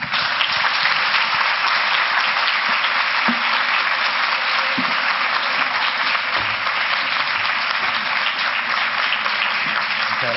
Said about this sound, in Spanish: y despedimos al doctor con un gran aplauso.